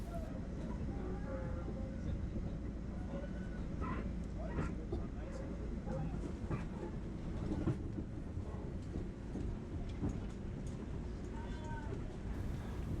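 Steady rumbling of a train interior with faint squeals and clatter as it slows into the platform at Jamaica station, New York, a low continuous roar; brief faint voices drift in.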